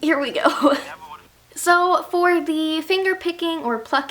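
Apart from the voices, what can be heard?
No distinct noise like a dog, phone or traffic.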